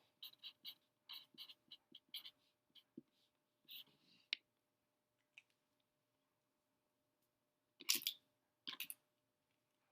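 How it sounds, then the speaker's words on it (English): A word is written by hand in a series of faint, short scratchy strokes, spaced out with quiet gaps between them, and a couple of louder scrapes near the end. "And I'll write the word"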